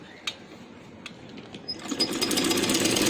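A sewing machine stitches the seam of a handmade night gown, starting with a few light clicks and then running in a steady fast whir close by.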